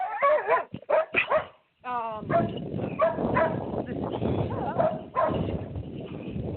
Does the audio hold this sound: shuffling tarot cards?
no